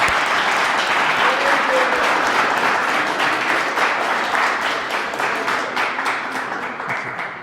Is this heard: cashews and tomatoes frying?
no